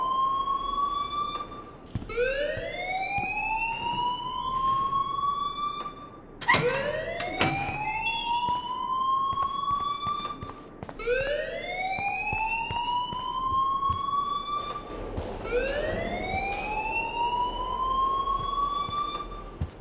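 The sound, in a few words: alarm ringing in the video game Life Is Strange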